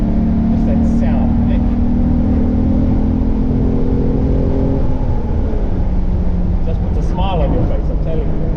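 A Volkswagen VR6 engine runs close by and rises briefly in pitch at one point before settling back to a steady drone, while someone talks over it.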